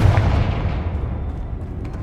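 Confringo fire spell cast in Hogwarts Legacy, a deep booming blast that rumbles and decays over about two seconds, loud and alone with no voices.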